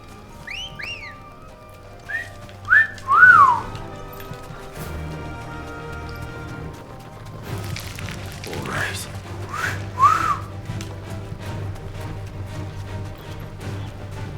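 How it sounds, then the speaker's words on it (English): A character in Final Fantasy 16 whistles a few short sliding notes that rise and fall, set against game ambience with faint hoof clip-clops and a brief crash. "Wish I could whistle like that."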